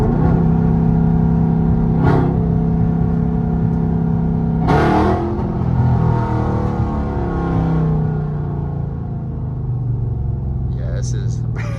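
A supercharged Hemi V8 car drones and revs while driving, with a steady low rumble and a couple of sharp revving bursts, heard from inside with occasional speech over it.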